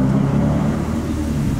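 A car rolls slowly into a parking space at the entrance of an Outback restaurant, its engine a steady low rumble held close and loud, with no talk over it.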